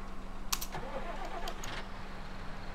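A JCB backhoe in Farming Simulator 19 has its engine started. A couple of sharp clicks come first, then a brief cranking turn-over settles into a steady idle under a constant mechanical hum.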